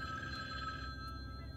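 A phone ringing somewhere in a Michael Myers horror video game, a steady electronic trill holding at moderate level, heard alone and slightly muffled as if from another room.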